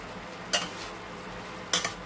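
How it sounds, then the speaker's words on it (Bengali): Pre-fried pabda fish pieces are slipped into a pan of mustard-poppy seed paste, giving two short, faint sizzles about a second apart over a quiet frying background, with no talking. "এখন আমি ভেজে রাখা মাছগুলোকে ছেড়ে দিচ্ছি।"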